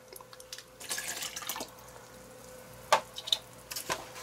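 Used watercolor painting water poured out, heard as faint trickling and dripping with a few sharper splashes near the end, close and quiet.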